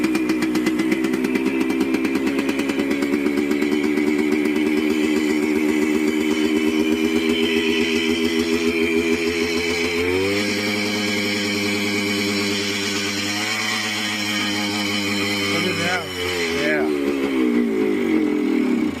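A Yamaha DT175 two-stroke motorcycle engine runs steadily close by, its buzzing note rising and settling as the revs change, with a pitch shift partway through as the choke comes off.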